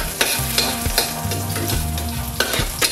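Onions frying in a pan, a steady broadband sizzle with repeated scraping stirs and utensil knocks, close and fairly loud, with no voices.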